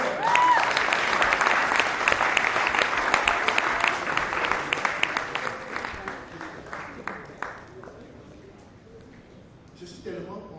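Applause from the audience at a graduation ceremony in Douala, loud and sustained at first and then slowly thinning out. Scattered voices carry over it and a speaker is heard again at the end.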